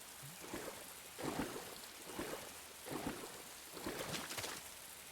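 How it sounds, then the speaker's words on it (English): Rain in Metal Gear Solid 3, a faint steady hiss of falling rain with soft rhythmic swells of drops and splashes recurring about once a second, quiet and without talk. "It's raining."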